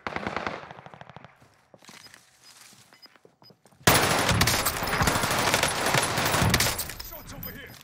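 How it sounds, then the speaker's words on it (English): Heavy, continuous automatic gunfire in a video game, starting abruptly after a quieter stretch of faint clicks and steps and then holding loud and dense, with a player speaking over it. "Shots over here."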